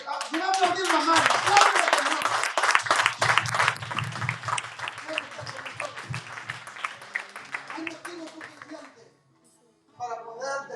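A church congregation claps along during a Spanish-language worship service, a loud run of rhythmic handclaps with a voice over it that tapers off, then a short pause before talking resumes.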